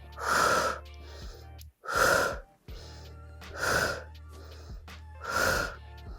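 Sharp, forceful breaths during an abdominal toning workout, four strong exhalation bursts in a steady rhythm with quieter breaths between them, close and loud, with no talk over them.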